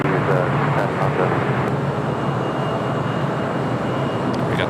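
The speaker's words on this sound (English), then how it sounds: "We got this queen heading to Tokyo Narita. It's flight 101 on this 14-year-old 747-8." A fourteen-year-old Boeing 747-8 jet airliner at LAX, a loud, steady broadband engine roar that holds evenly throughout.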